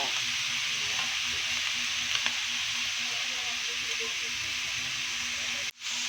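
Squid is sautéed for spicy adobong pusit, a steady close hiss of frying with light stirring underneath, a voice faintly audible in the background and a brief dropout near the end.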